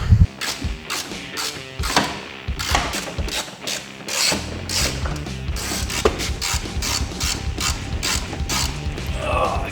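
A hand ratchet works loose interior bolts in an EK Honda Civic, giving bursts of quick clicking with knocks and thumps from the tool and car trim, close and irregular, with no talking.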